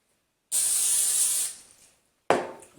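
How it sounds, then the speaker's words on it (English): Cooking spray hisses onto potato slices in one steady one-second burst, then a second short, sharper spritz follows after a brief pause, close and clear. "I'm going to go ahead and hit one side with the cooking spray"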